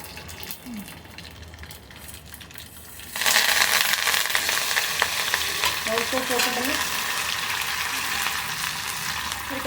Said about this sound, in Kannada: ಒಂದು ಅರ್ಧ ಕಪ್ಪಷ್ಟು ಎಣ್ಣೆ ಬಿಸಿ ಮಾಡಿಕೊಂಡು ಸಾಸಿವೆ ಕರಿಬೇವು ಒಣಮೆಣಸಿನ್ಕಾಯಿ ಬದನೆಕಾಯಿ ಮತ್ತು ಬೆಳ್ಳುಳ್ಳಿ ಒಗ್ಗರಣೆ ಮಾಡಿ